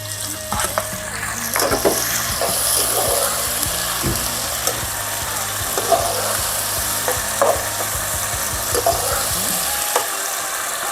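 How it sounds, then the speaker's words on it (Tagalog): Tomato, garlic and onion sauté in hot oil in a pan, a steady loud sizzle with repeated scraping strokes of a spatula, and no voices. "nagisa na yung ating kamatis, bawang, sibuyas"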